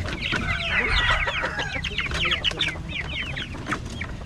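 Chickens cluck in a rapid series of short, close calls with a few overlapping birds, fairly loud against a faint outdoor background, with no talking.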